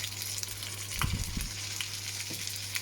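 Apples for a tarte tatin fry in a pan over medium-low heat, giving a steady close sizzle with a low hum and a few soft clunks of stirring in the middle.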